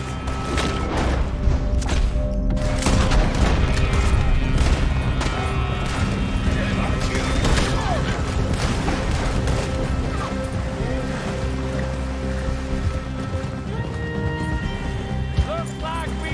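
A shootout in Red Dead Redemption 2, with dense, loud booming gunfire and crashes mixed with rushing water, under constant shouting voices throughout.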